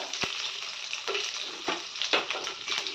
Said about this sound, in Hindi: पैन मेरा गर्म हो गया है, इसमें अब मैं जीरा डालती हूँ, 2 खड़ा मिर्चा डाल देती हूँ।